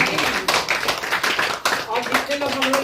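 A church congregation claps for God the Father at a worship service, a busy, lively patter of many hands with voices speaking over it throughout.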